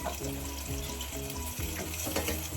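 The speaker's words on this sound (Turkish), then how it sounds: "Şu an fasulyemi atıyorum. Biraz fasulye de kavurtacağım." Green beans sautéing in a pan, a dense, steady crackling sizzle heard close and moderately quiet throughout, without any voices.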